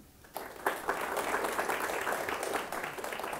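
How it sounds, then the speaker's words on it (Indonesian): Audience applause at a high-school literary criticism competition final swells quickly into steady, dense clapping that carries on evenly at moderate volume. "Jadi sekali lagi tepuk tangan."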